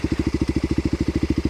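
A Kawasaki KLX250sf single-cylinder engine thumps at a fast, even rhythm while riding slowly over an Indian reserve trail, loud and close with steady pulsing and no voices.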